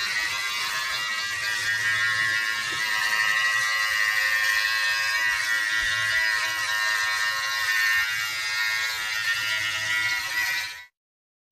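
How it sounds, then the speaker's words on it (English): Electric beard trimmer with a 7 mm guard running steadily through a beard: a loud, continuous close-up buzz with small changes as it passes over the hair, cutting off abruptly near the end. "now we're going to go down to trim with a 7 millimeter across the beard"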